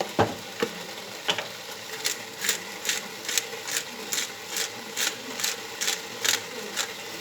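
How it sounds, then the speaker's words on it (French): Beef pieces searing in a pot for bourguignon, a soft sizzle under regular scraping stirs of a utensil against the pan, repeating roughly every half second. "Je remue fréquemment mes morceaux de viande."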